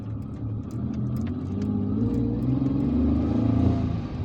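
A private bus passes along a road in Algiers, its engine rumbling steadily and swelling slightly as it goes by, fairly close, with no voices.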